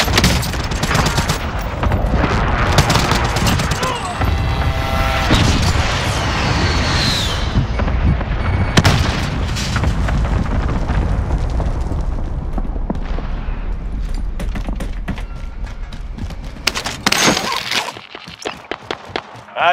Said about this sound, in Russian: Вызываю авиаудар.